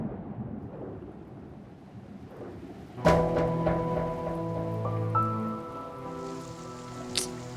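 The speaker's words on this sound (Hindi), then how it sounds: "जिस दिन छाता नहीं लाती उसी दिन बारिश होती है।" Steady rain hisses on its own at first, then a sustained musical chord swells in over the downpour and holds to the end, with no clear thunder.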